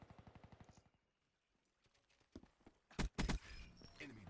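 Gunfire in Call of Duty Black Ops 3, a fast automatic burst at the start, then a few sharp loud shots near the end over game ambience.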